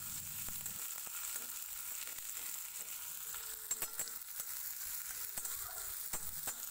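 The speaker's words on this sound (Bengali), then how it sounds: "পেঁয়াজ কুচি হালকা একটু ভাজা ভাজা হয়েছে" Chopped onion, two finely cut dried red chilies and cumin seeds frying in oil in a home kitchen, a soft steady sizzle with occasional faint stirring clicks.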